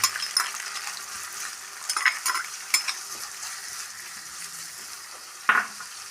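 Chopped onion sizzles in hot oil in a pan, a close, continuous crackling hiss with scattered spatula taps and one sharper clink near the end, no talking.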